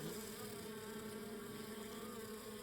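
Honeybees buzzing steadily at a beehive in autumn as the colony readies for winter, a dense, continuous close-up drone of many wings with no voices.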